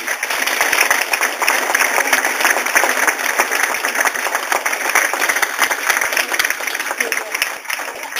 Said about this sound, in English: a round of applause for the staff on duty here, the chef as well